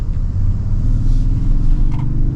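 A Toyota Tundra truck engine rumbles loudly up close, a deep steady low-pitched drone with slight swells as it revs.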